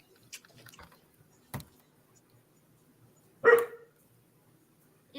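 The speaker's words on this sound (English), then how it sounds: "if you hear the dog barking, Klaus is having a moment, and I'm sorry." A dog barks at a distance in a quiet room, a couple of short, faint woofs followed by one louder, sharper bark, with no talking over them.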